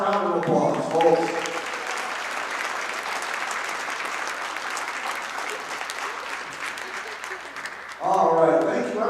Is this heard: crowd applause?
yes